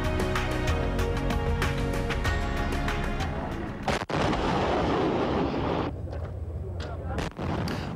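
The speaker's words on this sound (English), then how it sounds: "A burst of gunfire in Yemen's capital." Rapid bursts of gunfire crack out loud and close in Yemen's capital over a dense, rumbling background, with voices mixed in.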